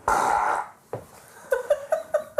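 A voice imitates a fart with the mouth: a long buzzing blurt, then a short pop and a quick run of about five sputtering bursts, close and fairly loud with no speech.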